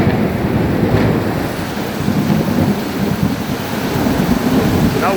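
Thunder from a thunderstorm at night rolls and rumbles deeply and continuously, loud and somewhat distant, with wind buffeting and a rain-like hiss throughout.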